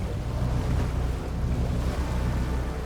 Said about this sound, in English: They leave a continuous wake of 4-foot rollers today.